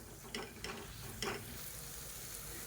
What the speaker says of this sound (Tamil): இதையும் எண்ணெயில் நல்லா வதக்கி விட்டுக்கலாம்.